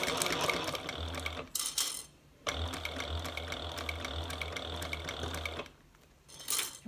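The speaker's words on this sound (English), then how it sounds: "like I do every time I wind a bobbin" A Juki 1541 sewing machine winds a bobbin, a close, steady mechanical whir with a low motor hum that runs in bursts, stops, then starts again, no talking.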